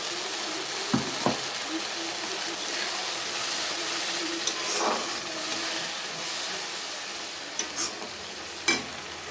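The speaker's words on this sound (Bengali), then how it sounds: "মশলার বাটি ধুয়ে জলটা দিয়ে দেবো।" Rinse water from a spice bowl is poured into a simmering masala chicken curry, giving a steady bubbling hiss with a few sharp clinks and splashes of the bowl and spoon close by.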